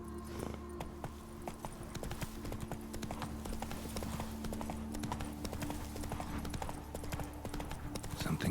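A horse gallops in The Witcher 3 with rapid, continuous clip-clop hoofbeats and rattling tack under a steady low game soundtrack.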